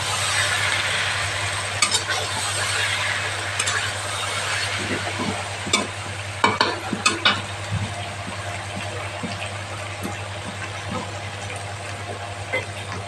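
Spice paste for a tangra fish curry sizzling and frying in a pan, a steady close hiss with a few scattered clicks and stirring knocks, heard alone over a low constant hum.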